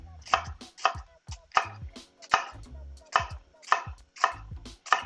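Knife chopping an onion on a cutting board while dicing it for a veal orecchiette dish, about nine crisp, evenly spaced cuts in a steady rhythm, close and clear with no talking.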